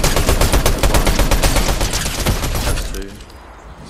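Fortnite gunfire rattles loud and close in a rapid, dense burst of shots lasting about three seconds, then cuts off, leaving a faint tail and a brief word from a player.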